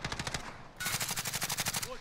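Rapid automatic gunfire from a video game rattles in quick bursts, a steady rhythmic stutter that cuts out briefly, then resumes louder and continues to the end.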